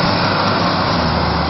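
A car engine revs hard while the vehicle sits stuck on grassy, earthy ground, a loud, steady, continuous roar with no talk over it.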